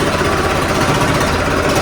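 A tractor's diesel engine runs steadily with a continuous mid-pitched rumble and vibration, loud and close, during rotavator servicing at a farm home.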